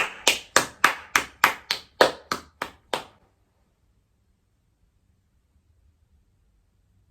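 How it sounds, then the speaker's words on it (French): About ten sharp, evenly spaced hand claps ring out close by at a steady beat, like one or a few people welcoming a guest, then stop abruptly and leave near silence. "Nous pouvons l'applaudir bien fort."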